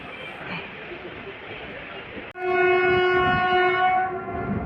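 Train 06407, the Erode–Mettur Dam passenger express, departs Salem Junction. A loud, sustained horn blast cuts in midway over a low rolling rumble of the rail cars.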